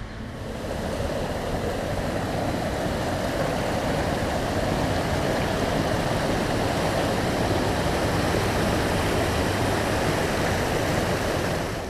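Stream of water flowing through a park on the French Riviera, a steady, dense rushing close by that stays even and continuous throughout, with no voices.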